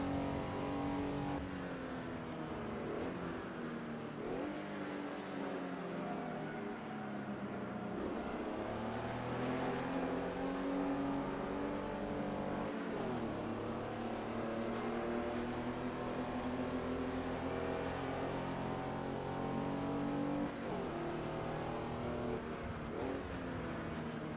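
Holden VN Commodore racing engine in the Assetto Corsa video game at Eastern Creek, a steady loud drone that rises and falls through gear changes for the whole stretch, with no talk over it.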